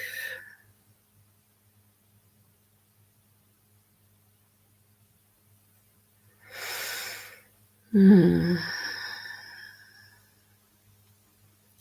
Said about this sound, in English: We're just breathing in this breath of life.